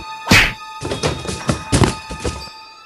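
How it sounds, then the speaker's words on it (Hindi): A cartoon kick lands with a sharp, loud thwack, followed by a quick run of thumping impact hits, with no voices over them. "आलोक बक को जोरदार किक लगा देता है जिससे कि बक जमीन पे गिर जाता है।"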